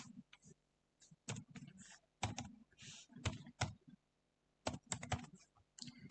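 A passport number is typed on a computer keyboard while filling in an online visa application, bursts of quick clicky keystrokes separated by short pauses, close and fairly quiet.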